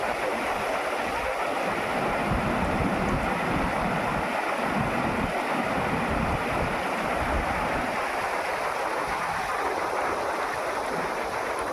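Waterfall at Huai Sai Yai, a steady broadband rush of falling water filling the scene continuously and loudly, with no talk over it.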